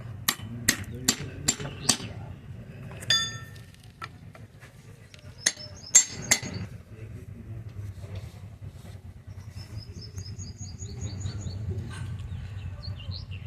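Bearing cups hammered into a Mahindra Supro universal joint cross in a workshop: several quick metallic taps in a cluster, then scattered clinks and knocks over low background hum, with bird chirps in the distance.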